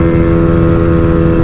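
A Honda Fan 125 motorcycle engine screams at high revs near top speed, a loud, steady, close-up whine with a strong harmonic drone and wind rush, no pause.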